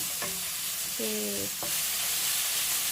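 Sliced shallots stir-fried in a pan, a steady sizzling hiss throughout with a few short spatula scrapes and taps against the pan.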